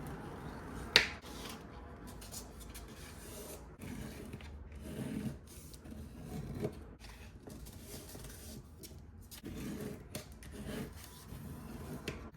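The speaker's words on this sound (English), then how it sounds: "fold on my score marks and use my bone folder to burnish everything" A bone folder burnishes folded paper along score marks for a travel journal jacket, producing quiet, close rubbing and scraping strokes with a sharp snap near the start and soft intermittent swishes throughout.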